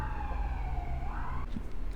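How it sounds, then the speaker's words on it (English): Emergency vehicle sirens wail past outside, a rising and falling tone heard at moderate distance over a low rumble, fading and shifting near the end. "as the sirens pass"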